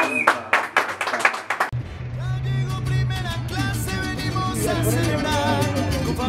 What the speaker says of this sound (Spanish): Ese aplauso que se escucha.